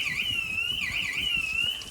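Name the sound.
neighbour's burglar alarm going off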